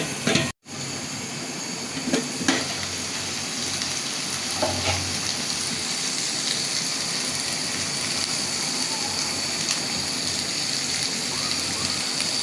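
Kachki fish cooks covered in a pan as a dense, steady sizzle and fry, loud and close, running almost unbroken after a brief gap at the start.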